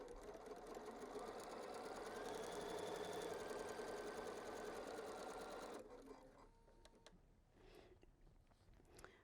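A sewing machine runs steadily as a quilt wall hanging is stitched, a continuous close hum for about six seconds before it stops and leaves faint handling noises.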